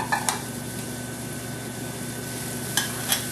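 Diced yellow onion and celery sizzle in a stick of butter in a pan, a steady close frying hiss with a couple of brief utensil clinks near the start and end.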